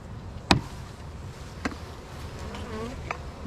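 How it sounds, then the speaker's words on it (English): Honey bees buzz loudly as they are shaken off a hive frame, a sharp knock and rattle as the frame is jolted, then a couple of lighter knocks amid steady close buzzing with wavering wingbeat tones. "I'm going to shake these bees off"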